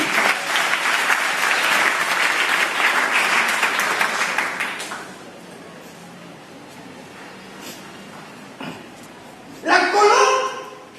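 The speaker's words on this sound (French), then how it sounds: "Est-ce qu'on peut acclamer Jésus?" A church congregation applauding and cheering in acclaim of Jesus, loud sustained clapping for about five seconds that then fades, followed by a brief spoken voice.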